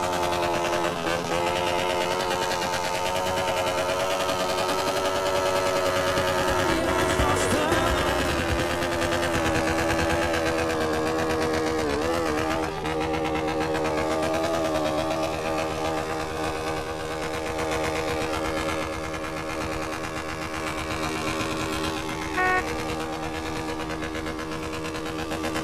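A motorcycle with a straight-through exhaust pipe revs hard against its rev limiter, producing a loud, continuous buzzing engine roar with stuttering cut-outs that carries on throughout.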